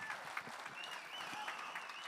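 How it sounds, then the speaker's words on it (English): At an outdoor flood relief benefit concert in Vermont, the crowd applauds with a soft, continuous patter of clapping heard from a distance. A thin whistle rises briefly over it. "So let's give them a round of applause, please."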